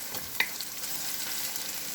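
Shrimp chow fun sizzling steadily in a pan at home, a continuous bright hiss with a brief louder spatter near the start, stirring audible, no talking.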